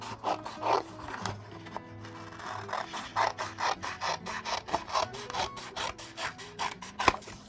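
Ink-stained paper towel paper being trimmed for a handmade card, a steady run of close, soft rasping strokes, repeated in an uneven rhythm with no talking.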